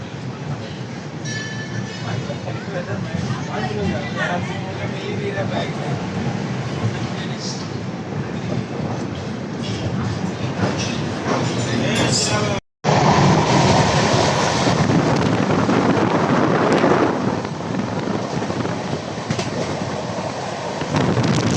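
Pune-Howrah Azad Hind Superfast LHB train running, a loud steady rumble of the moving coaches with rattling wheel noise throughout, briefly cut off midway, then resuming.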